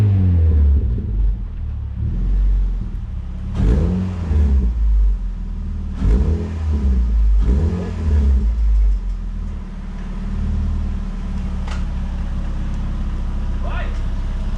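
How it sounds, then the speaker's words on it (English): Mazda Miata NC with a street muffler exhaust making a cold start, the engine cranking and catching with several revving bursts, then settling into a steady low idle rumble up close, with people talking at times. "We're going to hear the first cold start with the street muffler."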